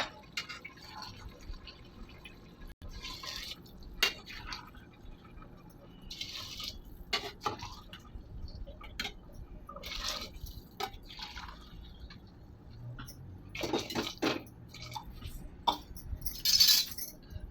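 Hot water poured over rice in a pot while making chicken biryani, heard as intermittent liquid splashes and drips, with a few sharper splashes toward the end. The sounds are fairly quiet over a faint room background.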